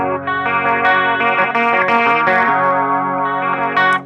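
An electric guitar plays a chord on its lower strings through a chorus effect, the notes ringing out one after another with a shimmering, wavering sustain.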